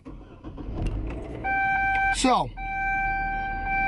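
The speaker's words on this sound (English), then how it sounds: "quit beeping at me, car." A car's warning chime beeps as a sustained electronic tone that cuts out briefly, then resumes steadily, inside a vehicle with the engine running. Someone talks over it, with an engine-start sweep mid-clip.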